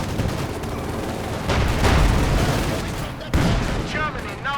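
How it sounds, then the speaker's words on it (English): A field gun fires on a Panzer IV tank in Company of Heroes 2, with loud booming shots and crackling gunfire building amid a chaotic battle, including a sharp blast toward the end. "Field gun, they're ready to open up down the Panzer IV, firing away gloriously."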